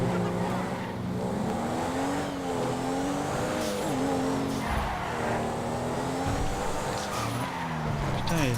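Porsche 911 Turbo S with 540 horsepower driven hard in GTA 5, engine revving up and down through shifting pitch with tire squeal and skids, loud and close throughout.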